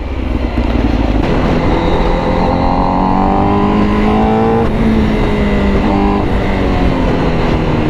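A Honda CBR1000RR-R sport bike revs hard on an open road, its engine note climbing steadily in a loud, continuous roar heard close up over constant wind noise, with no speech.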